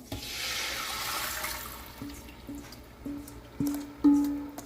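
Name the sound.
pouring liquid into a pot of chicken adobo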